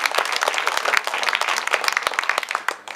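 A crowd at a veillée evening in Plouagat claps for a performer named Annie: brisk, close applause with distinct individual claps standing out, fairly loud and tapering off at the end.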